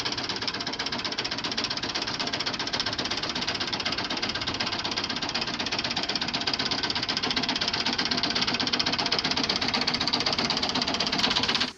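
A 1983 Ford 4610 tractor engine running at a steady idle, a loud, dense, even diesel clatter that goes on without a break for about twelve seconds and cuts off abruptly at the end. No speech is heard.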